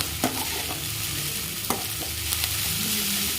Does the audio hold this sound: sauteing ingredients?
yes